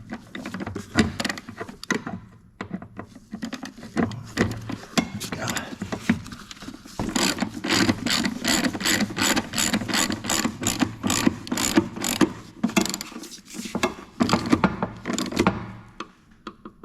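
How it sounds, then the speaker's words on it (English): Ratchet wrench tightening shock absorber bolts on a 2011 Ford Fiesta sedan, rapid clicking bursts in repeated runs, up close and loud. "So I'm going to tighten these by hand using a ratchet wrench"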